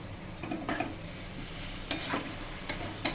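A spoon stirs rice, dal, potato and cauliflower in a pot for soybean khichuri, giving soft scraping and light sizzling with a few sharp metallic clinks of utensil against the pan.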